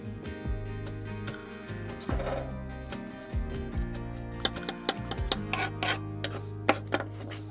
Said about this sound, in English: Usually I don't peel them, but since these are going to be sliced and boiled, I need to peel them.